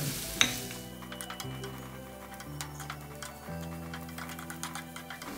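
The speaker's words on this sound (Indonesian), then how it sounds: "jadi kalau numis-numis saya lebih suka pakai minyak goreng ya dia lebih cepat garingnya" Onion sautés in cooking oil, a soft close sizzle with light ticking crackles and a stirring clatter near the start, a low steady hum beneath and no talk.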